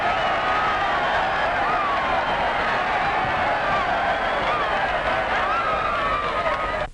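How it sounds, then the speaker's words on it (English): A crowd at a ball game cheers and applauds continuously, a dense roar of many voices and clapping that holds steady at full volume throughout. "and get a cheer like this"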